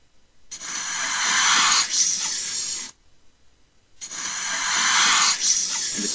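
Two long, breathy hisses separated by a short pause, steady and fairly close, like a snake hissing.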